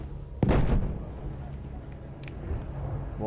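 Gunfire in a Battlefield match: a loud, sharp shot or burst near the half-second mark, then a steady din of battle noise with scattered distant pops continuing throughout.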